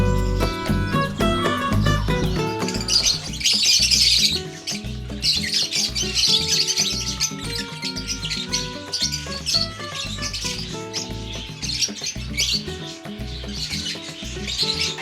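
Cockatiels and lovebirds squawk and chirp continuously at close range, harsh overlapping calls and shrill tweets filling the whole stretch with no talking.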